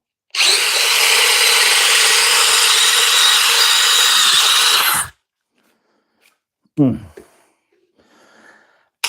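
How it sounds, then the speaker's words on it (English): A DeWalt compact drill whirs at a steady high pitch for about five seconds, then stops abruptly, followed by a short exclamation and a faint clatter. "I think it's an impressive little drill."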